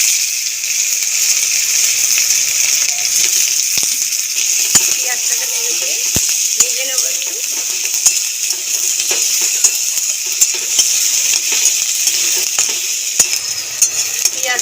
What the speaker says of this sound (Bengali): আগে থেকে যে কোচানো পেঁয়াজ ছিল পেঁয়াজটা দিয়ে দেবো